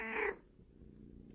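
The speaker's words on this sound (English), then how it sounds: "And that's my cat." A pet cat gives a single short meow up close in a quiet crafting room, then fades into faint background hiss.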